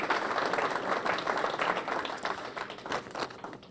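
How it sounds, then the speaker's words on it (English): Audience applause at a Veterans' Day ceremony at VFW Post 6712 in Beachmont, a steady, moderately loud round of clapping from a sizeable crowd that holds throughout and tapers slightly near the end. "can we have a round of applause for June Dunn and the Ladies Auxiliary here at Post 6712"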